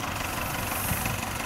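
A K-25 tractor engine idles during haymaking, a steady, close rumble with a constant even drone and no change in pace.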